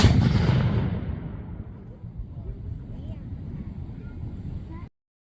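A Civil War artillery cannon fires one loud, booming shot at close range, and the blast rolls and echoes away across an open park.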